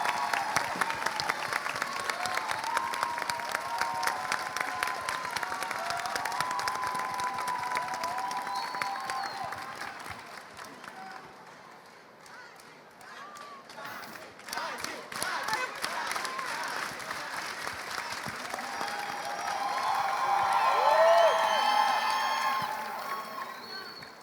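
Audience at a book fair panel in Rio applauding, a sustained wash of clapping from a large indoor crowd that dips briefly midway and then swells again toward the end, with some voices mixed in.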